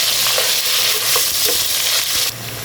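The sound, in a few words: frying chopped onions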